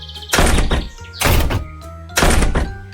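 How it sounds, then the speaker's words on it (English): Three loud, close door slams land about a second apart in a cartoon bedtime story of the three little pigs, each bang a sharp hit followed by a brief rattling ring-out. "All 3 of them closed their doors with a bang."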